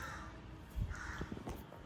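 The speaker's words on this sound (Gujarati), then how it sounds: "અને બાર અત્યારમાં કાગડો બોલે છે" A crow caws outside near a home, a few loud, harsh calls close together, with quiet background.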